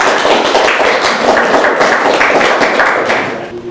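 A welcoming round of applause at a local electoral-system debate, loud dense clapping from the audience that holds steady and then fades away at the end.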